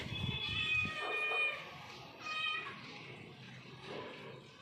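A mother cat meows several times in quick succession, fairly close, with faint voices in the background.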